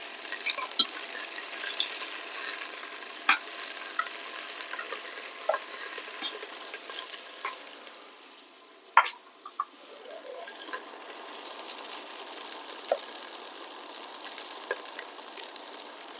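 Chopped prawns with radish greens frying in a pan for a radish-greens stir-fry with grated coconut, a steady soft sizzle with scattered stirring clicks, close and moderately quiet, no talking.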